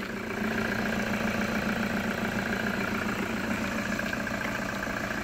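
A Toyota Hilux Invincible pickup with a 3-litre D-4D automatic diesel idles steadily, giving a continuous low, even rumble with constant vibration that holds level and close throughout, with no voices.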